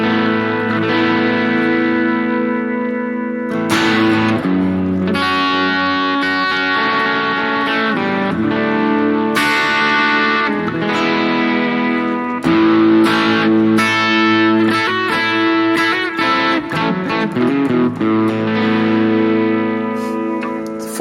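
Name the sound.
Harley Benton Fusion electric guitar, light crunch tone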